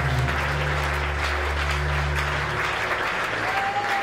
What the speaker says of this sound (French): Bien-aimé, acclame encore le Seigneur ton Dieu.